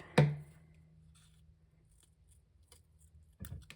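Scissors cut a paper craft piece with one sharp snip at the start and a brief snipping rustle near the end, close and crisp, with quiet handling between.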